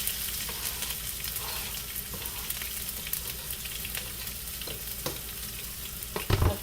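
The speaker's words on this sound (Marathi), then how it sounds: "आता तुम्ही हा कांदा टाका." Onion goes into hot oil where mustard seeds are already spluttering for a tomato and potato rassa bhaji, making a steady close sizzle with scattered small pops and a short clunk near the end, with no talking.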